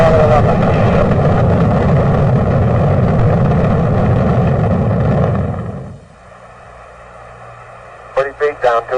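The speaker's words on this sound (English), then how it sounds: "Liftoff on Apollo 11." Apollo 11 rocket liftoff gives a loud, sustained broadband roar that drops away abruptly after about six seconds, followed by faint radio chatter and a short burst of speech.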